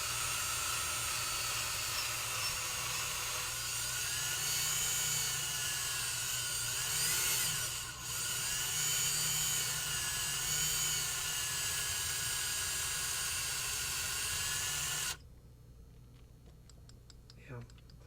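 A steady high-pitched drill whines continuously at close range while boring into a Kaba Ilco lock cylinder, then stops abruptly, leaving faint ticking and clicking.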